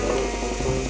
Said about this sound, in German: Mach mal einen Kühlschrank auf.